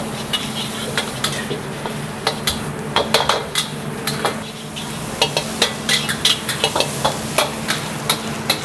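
Chili is stir-fried in a pan at a fried-rice stall, with a constant sizzle under repeated sharp metallic scrapes and clanks of a spatula against the pan, no talk.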